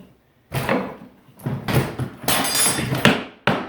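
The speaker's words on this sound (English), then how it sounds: "Take one of your rejects, use it as a pounding block, a hammer" A handful of solid wooden knocks and thumps as a scrap hardwood stair piece is used as a pounding block to drive stair boards home, at an uneven pace, close by and moderately loud, with no speech.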